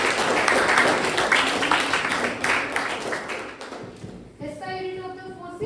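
Classroom of eighth-grade students at a school breaking into steady, dense clapping for a few seconds, the applause thinning out as a voice begins speaking near the end.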